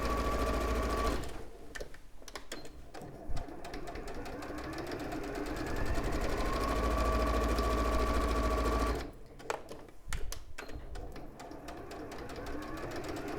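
A sewing machine stitches a seam around a fabric bag, its rapid mechanical whir running in two long bursts separated by brief pauses, close and loud with no talking.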